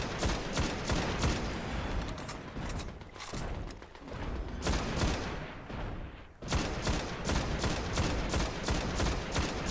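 Sustained bursts of rapid automatic gunfire from the video game Destiny, played on Xbox One, loud and dense, with a brief lull around the middle before firing picks up again.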